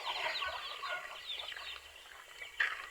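Chicks and chickens in farm pens cluck and peep faintly at a distance, a soft steady murmur of fowl calls with one slightly louder call near the end.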